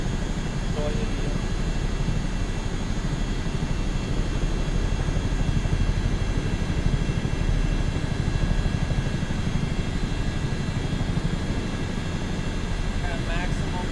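A CH-47D Chinook helicopter in a flight game roars at maximum throttle during a low flyover, a steady, loud, broadband engine and rotor drone that never lets up.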